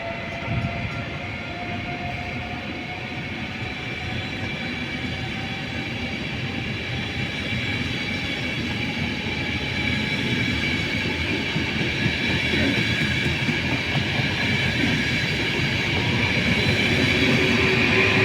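A train rolls through Padova railway station with a steady, loud rumble and rising wheel and track noise, thin squealing tones running above the rolling roar throughout.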